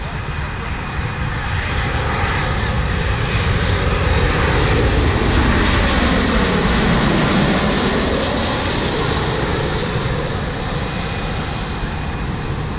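A fixed-wing airplane's engine roars steadily overhead, a loud, continuous broadband drone that swells slightly in the middle as the aircraft passes, heard by plane watchers.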